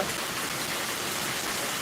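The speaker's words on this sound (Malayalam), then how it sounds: "മഴയാണ് മഴ" Steady rain falls and patters on surfaces, a dense, even hiss that holds without a break from start to finish and stays close and fairly loud, with no voices over it.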